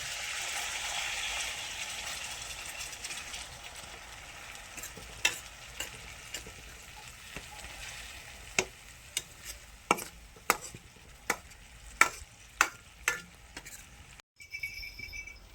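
A sizzling tempering for a spiny gourd and onion curry with a little water added, a soft frying hiss under a run of sharp utensil clinks and taps, then a brief drop to quiet near the end.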